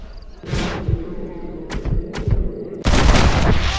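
Gunfire in Red Dead Redemption as a hat is shot, several loud bangs and thumps in quick succession with a heavier blast at the end, amid game noise.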